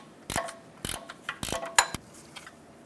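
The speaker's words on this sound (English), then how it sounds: "Use a gear wrench to tighten up this nut." A gear wrench ratchets a nut down onto a stud during an engine mount replacement on a 1994-2004 Chevrolet S10, producing several quick, close clicking bursts with brief pauses between strokes.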